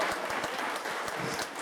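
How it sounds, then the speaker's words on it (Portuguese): A church congregation applauds together, giving a dense, even burst of hand clapping that holds steady throughout with no voices heard above it. "Vamos receber nosso querido irmão com a salva de palmas ao Senhor."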